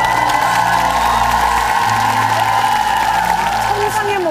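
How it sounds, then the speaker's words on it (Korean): Audience on its feet giving a standing ovation on a Korean TV show, sustained applause and cheering from a large crowd with a steady tone and some voices underneath. "일어서서 지금 기립박수를 치고 있어요"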